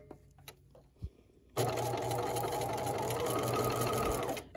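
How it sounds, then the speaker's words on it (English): A sewing machine stitches a short line of long basting stitches across the top of a quilt block. It starts after a few quiet handling clicks and then runs as a fast, steady, close mechanical whir for about three seconds. "And I'm just doing a short line of stitching on the top."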